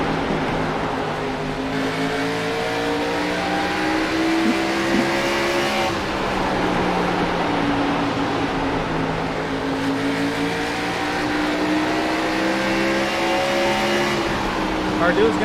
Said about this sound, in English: We'll see how long Landon is right behind the 8 car.